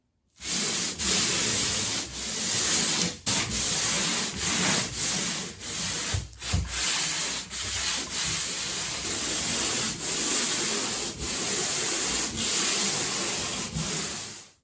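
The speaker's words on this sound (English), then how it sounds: "Keep your sander at about 45 degrees." Steady abrasive scraping of a pole sander rubbing across a patched wall, continuous and loud with brief pauses between long strokes.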